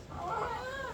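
A person imitates a peacock's call, a wavering, nasal high cry held for about a second at moderate loudness, with no other sound around it.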